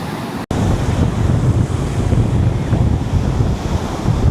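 Sea waves wash continuously onto a beach, a steady broad roar of surf mixed with heavy wind buffeting the microphone, with a brief dropout near the start and no voices.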